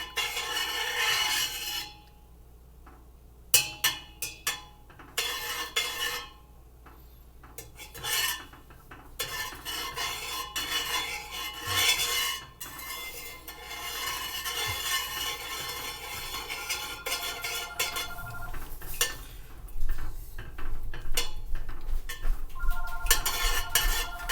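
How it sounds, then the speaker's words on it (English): A large metal spoon stirs homemade kombucha tea in a pot, clinking and scraping against the metal sides in an irregular, close rhythm with brief pauses, sounding alone without any talk. "The kombucha must be stirred a couple of times."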